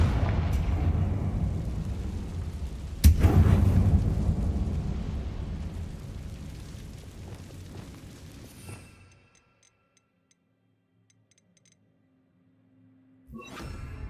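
A Confringo spell explosion in Hogwarts Legacy, a sharp booming blast that rumbles and slowly fades into near silence before another burst of sound starts.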